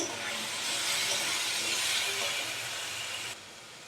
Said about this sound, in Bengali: আদাটা দিয়ে দিলাম, ভালো করে নেড়ে নিচ্ছি